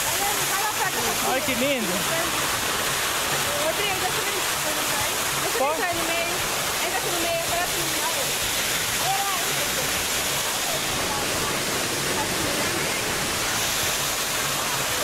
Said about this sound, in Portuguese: Estamos na cachoeira, ó.